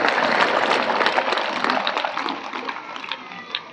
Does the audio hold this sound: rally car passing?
no